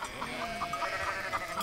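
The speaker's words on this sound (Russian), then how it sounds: "Это что, козы?" Goats bleating in a rural farmyard, several short wavering calls repeating in a loose rhythm at moderate distance, with no talk over them.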